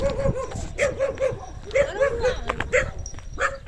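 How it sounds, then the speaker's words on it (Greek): Several dogs barking and yipping in short repeated bursts close by on a walk, with people talking over them. "Όχι, κι άλλα σκυλιά."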